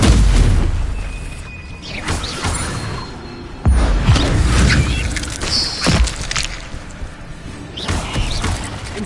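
Incendio fire spells are cast again and again in the video game Hogwarts Legacy, giving heavy booming blasts every couple of seconds. The bursts land close and loud over a churning, crackling bed of noise.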